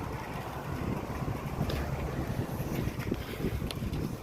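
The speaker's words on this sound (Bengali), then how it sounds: "হাওয়া চলছে, দারুণ হাওয়া চলছে" Strong, cold morning wind gusts across an empty road, a steady broadband rush of wind buffeting the microphone for the whole stretch, with no voices.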